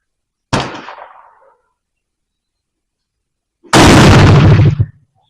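Two sharp, loud gunshots from an 1886 Mannlicher black powder rifle, fired a few seconds apart outdoors, each a sudden blast with a short decaying tail.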